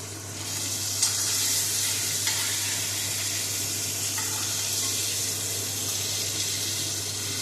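Chicken frying in peanut oil on high heat, stirred back and forth, makes a dense, continuous sizzling hiss, close and fairly loud, with a few faint scraping clicks.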